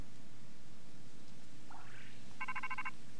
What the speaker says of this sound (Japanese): 電話来た。